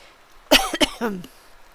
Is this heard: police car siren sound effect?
no